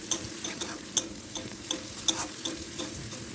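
Turmeric and cumin powder fry in a pan while being stirred, a soft sizzle punctuated by light clicking scrapes of a spoon against the pan at an uneven rhythm, close but fairly quiet.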